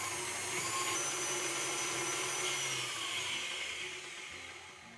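An electric mixer beating eggs with white and brown sugar for fudgy brownie batter, a steady close whirring drone that fades slightly toward the end, with no talking.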